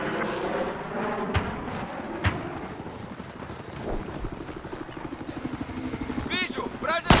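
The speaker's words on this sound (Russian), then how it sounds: "Вражеская вертушка!" An enemy helicopter in the video game Battlefield 4 gives a steady, rumbling rotor thrum with rhythmic chopping that grows louder toward the end, under wind-like noise and a few sharp game effects, with voices speaking.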